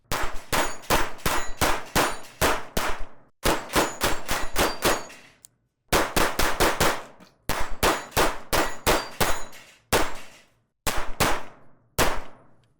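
A stainless Kimber 2K11 Comp pistol fires in rapid strings of sharp, ringing shots, about four to six per burst with short pauses between, loud and close with a metallic clang and no voices.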